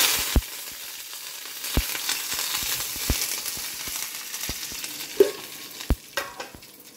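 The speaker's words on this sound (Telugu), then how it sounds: "మన టమాటా చారులా పోపు వేస్తున్నా" Spices for tomato rasam tempering in hot oil, with a close, continuous sizzle and frequent sharp crackles and pops throughout.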